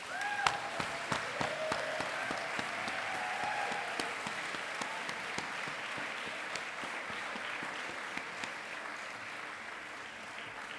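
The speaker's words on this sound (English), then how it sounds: "I wanted to ask you all to give another very, very big round of applause for Tabitha Rezer." A steady round of audience applause fills the room, many hands clapping at moderate volume with a few sharper claps standing out, sustained without letup from start to finish at a talk.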